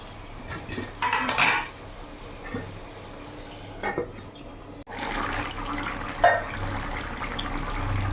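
About half a cup of water is added to a cooking pot of Bengali bottle-gourd shukto, with metal utensils clinking and a pot clattering first, then a broader steady wash of pouring and sloshing, fairly close with no talking.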